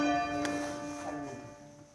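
A church bell rings during a bell-ringing practice session, with one clear ringing stroke near the start followed by its sustained, decaying tone fading over two seconds.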